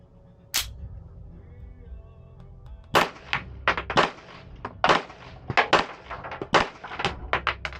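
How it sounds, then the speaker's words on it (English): An Apollo 11 Compact pistol fires 95 grain ARX ammunition, a single sharp crack followed after a pause by a rapid string of close, loud shots with short gaps between them. "Very soft shooting, fed, locked back."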